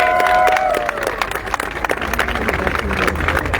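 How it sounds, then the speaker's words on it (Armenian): Crowd applause from residents of Yerevan's Shengavit district at an outdoor political campaign gathering: dense, continuous clapping with scattered cheers, loud and steady, while a voice speaks briefly at the start. "Այժմ եկեք մի հատ բարձր ծափահարություններով"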